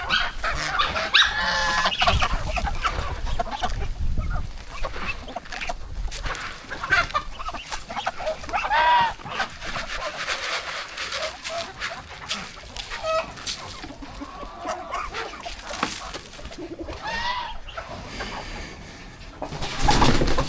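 Geese and chickens crowd together at a farm house chicken farm, a busy close chorus of overlapping clucks, squawks and honking calls rising and falling irregularly throughout.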